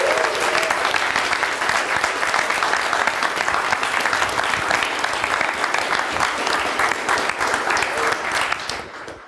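Steady, full audience applause at a conference closing session, dense clapping from a large crowd that holds throughout and tapers slightly at the very end.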